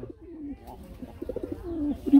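Male pigeons coo in a low, rhythmic series of repeated throaty calls close by, with soft rustling and faint background sounds around them.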